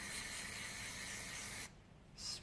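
A steady aerosol spray of carburetor cleaner hisses loudly and continuously, cuts off abruptly, then a brief second short spray burst follows, during a snowblower carburetor rebuild.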